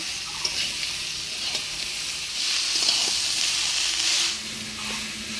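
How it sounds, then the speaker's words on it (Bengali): Fish curry with turmeric and salt, made with sea chela fish, potato and eggplant, is stirred in a hot pan, giving a soft, continuous sizzle and scraping with no talk. "হলুদ লবণ দিয়ে ভালো করে নাড়াচাড়া করে নেব"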